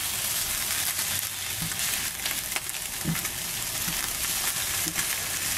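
Shakshuka sauce with chili sizzles and fries steadily in a pan, a continuous close crackling hiss with faint stirring scrapes throughout.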